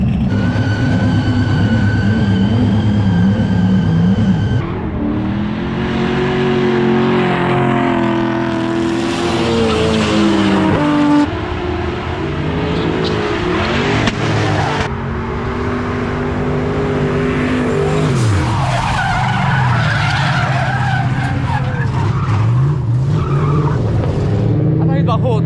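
At a December drift event, drift cars scream through skids with long, wavering tire squeals over loud, revving engines. Voices come through faintly beneath the steady noise.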